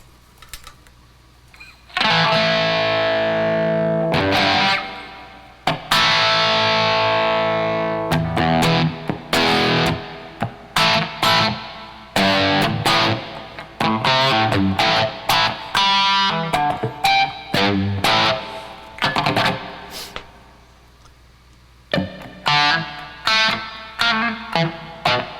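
An electric guitar runs through distortion effects, playing loud sustained chords and bursts of strummed and picked notes separated by short pauses, with no talking.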